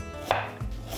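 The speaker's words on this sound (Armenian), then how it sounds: "սոխ, մանր կտրատում և տապակում ենք" An onion is chopped finely with a knife, two or three crisp blade strikes against a cutting board, close and distinct with no talk.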